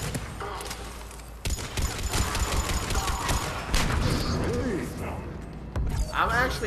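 Repeated gunfire from a weapon in Mass Effect 3 co-op, bursts of sharp shots and thumps over a busy combat din, loud and fairly continuous, with a player talking over it.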